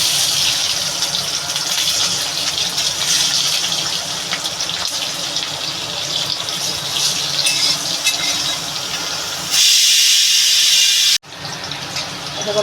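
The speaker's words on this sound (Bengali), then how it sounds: "রাঁধুনি ফোড়নটা দিয়ে দেবো আর এদিকে বন্ধু এই যে রসুনটা দিয়ে দেবো" Radhuni seeds and garlic sizzle in hot oil in a pan, a loud steady hiss that swells into a brief fiercer burst near the end, then drops out abruptly before the sizzle resumes.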